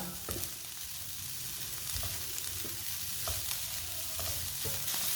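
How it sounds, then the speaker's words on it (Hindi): Spice masala for a chicken roll sizzles steadily in hot oil, with a spoon scraping and stirring the pan in repeated knocks and clinks, close and continuous, no voices. "अब इसे 2-3 मिनट के लिए ना भून लेते हैं।"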